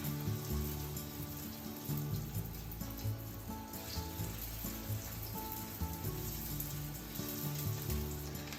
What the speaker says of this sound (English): The oil is hot enough, so let's put the chicken.